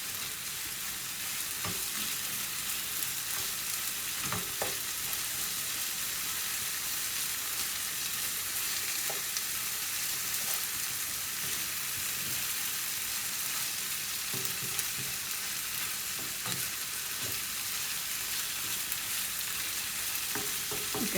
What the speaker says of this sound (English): You can see it's frying well.